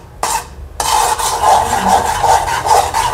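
Semolina is tipped into a pan and stirred for banana sheera, heard as a brief pour followed by steady rhythmic scraping and rasping strokes close by, without talk.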